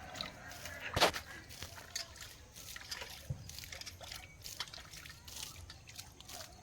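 Water poured over grains, heard as a faint, uneven liquid trickle with scattered drips and splashes and one sharper knock near the start.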